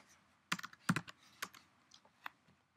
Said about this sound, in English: you would type right here, Form Mule